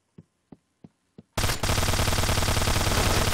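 Gunfire in the video game Point Blank on the Outpost map: four evenly spaced single shots, then a sudden loud sustained burst of rapid automatic fire, close and clear without any voices.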